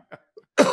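A short throat clearing ends in a single harsh cough, with two faint small sounds just before it and no speech around it.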